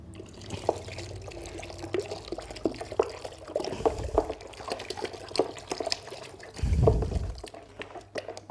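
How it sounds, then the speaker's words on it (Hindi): Water is poured into a hot starch solution being mixed for stiffening fabric, giving a gurgling, splashing pour with drips that swells near the end, fairly close. "अब इसका सबसे बेहतरीन जो हल है वो ये है कि इसमें पानी डालें।"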